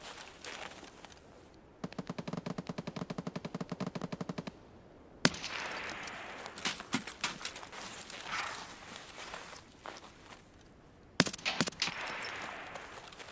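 VSS Val suppressed rifle fire in a video game: a long rapid burst of muffled shots, then sharp single cracks and scattered impacts, with another loud shot near the end.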